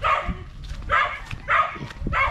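A dog in a rural Bataan yard barks four times in a close, even rhythm, each sharp bark about half a second apart.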